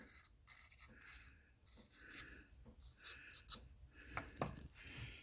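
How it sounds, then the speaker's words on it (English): Hand lapping a valve into its seat on a 2009 Honda Fit cylinder head, a steady close rasping and gritty rubbing with short scraping strokes that rise and fall in uneven rhythm, no voices. "we're going to grind her down a little farther, because we want that to be smooth all the way across there"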